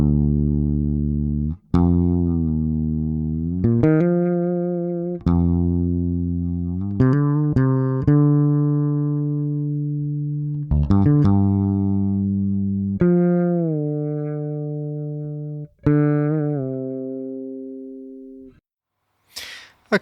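A fretless bass strung with Thomastik-Infeld strings plays a slow solo line of sustained, sliding low notes, each plucked and ringing out alone, with warm rounded tone and gradual decay.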